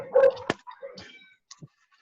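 A small dog gives a few faint, short yips and whimpers nearby, scattered over a couple of seconds in an otherwise quiet room.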